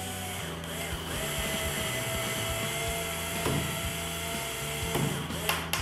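A power screwdriver drives a fixing screw into the base of a Clean Room telecell, a steady high whirring motor whine running throughout at moderate level, with a few faint clicks near the end.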